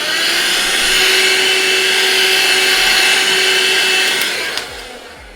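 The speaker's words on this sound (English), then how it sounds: "hang on a sec, I need to vacuum here" A vacuum cleaner runs loud and steady up close for about five seconds during a pastel painting session, whining evenly before winding down near the end, with no talking.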